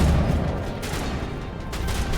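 Cannon fire from an enemy in Mass Effect comes through as a dense, continuous rumbling barrage, loud and sustained for a couple of seconds with bursts of sharper blasts rising out of it.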